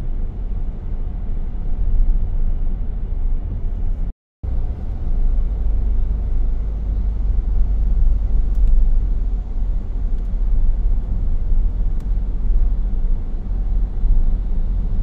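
A car driving through rain in Miri, Sarawak, with a steady low engine and road rumble and a constant wash of tyre and rain noise, close and continuous, briefly cutting out for a moment near the start.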